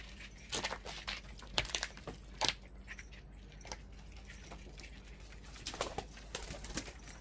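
Pigeons kept in a loft give short soft coos and bursts of wing flapping and rustling, several brief bouts spread irregularly across a quiet background, close by with no talking.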